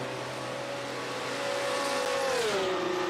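Race cars, including a BMW running in another's draft, scream around the Nürburgring in a sim racing game, a whining engine note climbing and then dropping as the car shifts or passes, steady and fairly close without talk.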